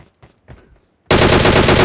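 Gunfire in the PUBG Mobile video game: a few faint soft knocks, then a sudden, loud, sustained burst of rapid automatic fire that fills the rest of the moment.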